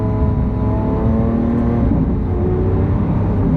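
A Lamborghini Aventador S V12 engine revs loudly and steadily on the road, its rich harmonic drone climbing slightly as it pulls, with no voices over it.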